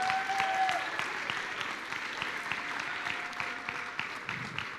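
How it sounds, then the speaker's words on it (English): A room full of people at a school event applauds the teachers, a sustained, even round of clapping that stays steady throughout, with a brief tonal whine near the start. "A round of applause to all the teachers who are here with us."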